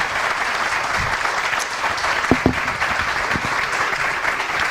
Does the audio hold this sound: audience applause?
yes